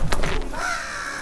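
A crow caws twice in quick succession, close and fairly loud, with a faint creak like a door in the background; no one talks.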